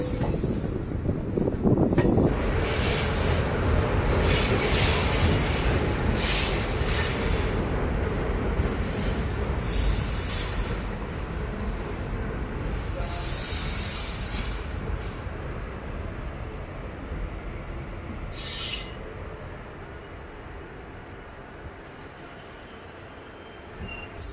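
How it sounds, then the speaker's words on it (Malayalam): A train rumbles heavily as it pulls away from Thiruparankundram railway station, metal wheels squealing in high shrill bursts, the noise gradually fading into the distance. "നമ്മുടെ ട്രെയിൻ അങ്ങനെ ഇതാ തിരുപ്പറൽകുണ്ട്രം റെയിൽവേ സ്റ്റേഷനിൽ നിന്നും പുറപ്പെട്ടിരിക്കുകയാണ്"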